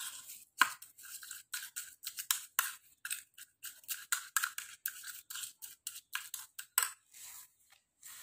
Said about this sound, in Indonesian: aduk hingga garam benar-benar larut jadi aduk agak lama ya biar garamnya larut